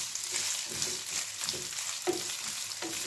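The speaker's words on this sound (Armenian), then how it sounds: "հիմա իրար հետ թող մի քիչ տապակներ" Onion and meat sizzle together in a pan for rice and sausage pilaf, a steady close frying hiss broken by soft scrapes and clicks of stirring.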